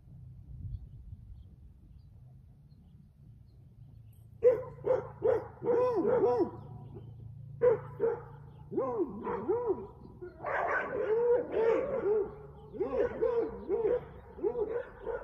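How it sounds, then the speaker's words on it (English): Several dogs barking behind the camera at a backyard home-run hitting session, with repeated yaps and whimpers arriving in bursts, fairly close and loud, after a quiet start. "There's dogs behind the camera."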